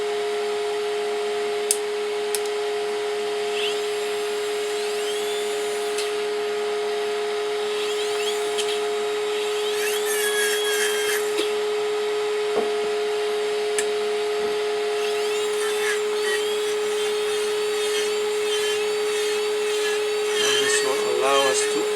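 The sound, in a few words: trimming a dental model with an angled burr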